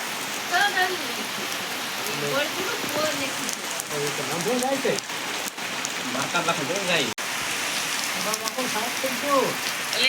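Steady rain falls without a break, a dense patter on surfaces all the way through, while people talk over it.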